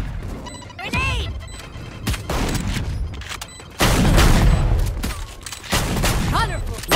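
Grenade blasts and bursts of gunfire in a Valorant match, with sharp crashing impacts and booms recurring over seven seconds and a dense loud stretch midway, while game voice callouts are heard.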